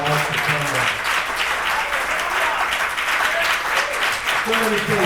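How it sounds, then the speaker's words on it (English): An audience at a motivational speech claps hands in sustained, loud applause, with a speaking voice breaking through at the start and end. "Clap your hands like you are about to come back."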